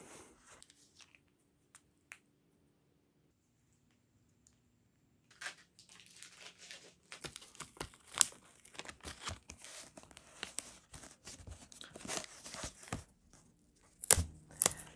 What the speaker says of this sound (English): The first part is to break out the cut parts.